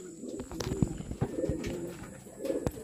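Racing pigeons back from a 252 km derby give soft, repeated throaty coos close by, in a few short overlapping bursts against a quiet background.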